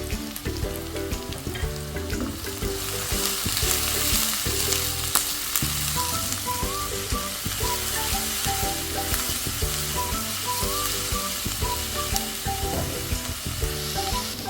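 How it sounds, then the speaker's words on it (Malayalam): Onions sauté in hot oil with curry leaves and green chilies, a dense, continuous sizzle close by that runs unbroken under background music. "എന്നിട്ട് നന്നായിട്ട് വഴറ്റുക."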